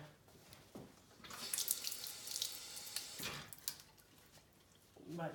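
A kitchen or bathroom tap runs water over a Lego baseplate being rinsed clean, a steady close splashing stream that swells midway and then eases, with low background noise around it.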